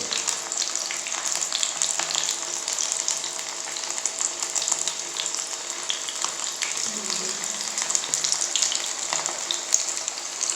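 Chicken pieces frying in a pan over a medium-low flame, a steady dense sizzle with small crackles that carries on without a break, fairly close, and no voices.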